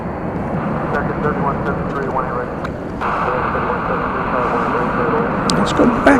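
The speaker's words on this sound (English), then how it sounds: "This plane coming in from Minneapolis, St. Paul, Flight 2967, an Airbus A320." A Delta Airbus A320 landing at Dallas-Fort Worth on a flight from Minneapolis-St. Paul, its steady jet roar rising slightly partway through while someone talks over it.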